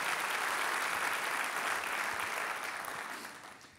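An audience claps loudly together in sustained applause that gradually fades toward the end.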